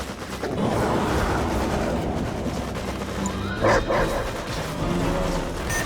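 Dogs barking in the real-time strategy game Command & Conquer Red Alert 3, several yips and barks scattered through a dense, continuous wash of battle noise and game sounds.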